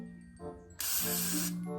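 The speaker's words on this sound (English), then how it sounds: "I'm gonna spray with this." A spray bottle mists onto a wig in one long, close, steady hiss lasting nearly a second, after a quiet stretch of faint background noise.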